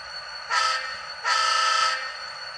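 Two long bursts of a model train horn sound over a steady low rumble of a small locomotive running along track.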